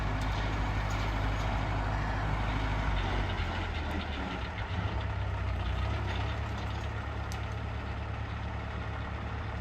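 Tractor engine running with a bush hog attached, a low, steady rumble droning on at moderate distance without any break.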